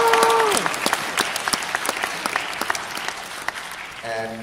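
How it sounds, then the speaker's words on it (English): An audience at a college Korean Night comedy show claps steadily, sharp individual claps standing out, while a brief whistle is heard near the start and end. "Give us a round of applause for putting this show together."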